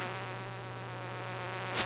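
Fruit flies in the farming video game Stardew Valley give off a steady, thin insect buzz that drones evenly and close throughout, with a brief swell near the end.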